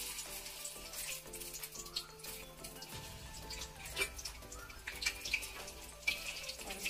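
Bread balls fry in hot oil with a steady, fairly quiet sizzle and scattered pops and crackles, heard close with no talking.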